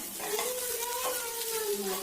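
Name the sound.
stirring grated potato and curry leaves in a pan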